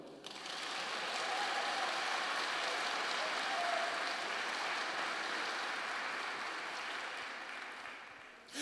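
A church congregation applauds at a sermon, a soft, steady, distant patter of many hands that holds evenly and then fades near the end.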